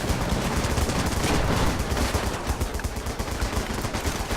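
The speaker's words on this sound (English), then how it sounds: "That was a big round of artillery fire, I think." Artillery fire in the video game Running with Rifles: a loud, dense barrage of rapid overlapping gunfire and blasts, sustained throughout without speech.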